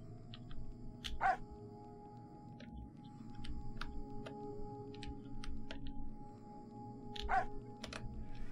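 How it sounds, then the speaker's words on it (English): A dog in the video game Ian's Eyes gives two short, sharp barks several seconds apart over a quiet ambient backdrop with scattered small ticks. "Move the girl out of the way with the bark."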